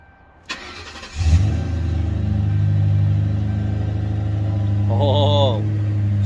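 A car with a Flowmaster Super 40 exhaust fires up after a click and settles into a deep, loud, steady rumble close by, with a brief voice over it near the end.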